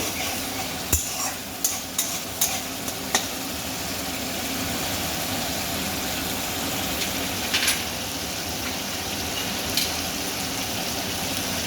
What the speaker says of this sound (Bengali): এইভাবে গ্যাসটা বাড়িয়ে নাড়তে থাকবো যতক্ষণ না তেল বেরিয়ে আসবে ততক্ষণ আমি নাড়তে থাকবো